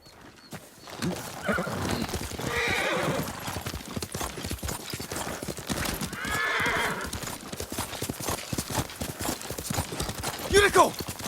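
In the video game Ghost of Tsushima, a horse whinnies twice, loud and close, as hooves clop steadily underneath, with ambient game sound throughout.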